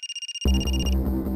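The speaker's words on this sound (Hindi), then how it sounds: "और तभी विशाल को फोन आया।" A phone ringtone in a Hindi CID crime drama scene: a short, steady electronic ring pulsing about eight times, then cut off as a loud burst of louder background sound takes over.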